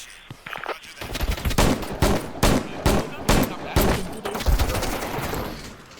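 Bursts of gunfire from the Vietnam-era shooter game Military Conflict: Vietnam ring out in rapid, sharp volleys with short gaps between, loud and dense, under someone talking.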